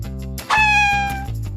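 A cat gives a single clear, drawn-out meow up close, rising then fading, over a low steady background hum.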